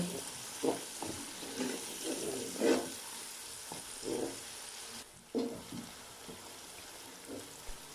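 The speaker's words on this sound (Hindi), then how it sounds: "अब मैं इसमें मसाले डाल दूंगा। तो हम मिक्स करेंगे।" Spices stirred into vegetables frying in a pan for an aloo matar gajar curry, with a steady close sizzle and spoon scrapes and clacks recurring every second or so, one pause midway, no voices.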